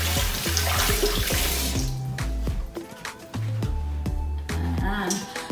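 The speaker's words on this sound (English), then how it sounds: "Let me just wash my hands." A kitchen tap runs while hands are washed beneath it, giving a close, splashy stream of water that cuts in and out, with clinks and short thumps in between.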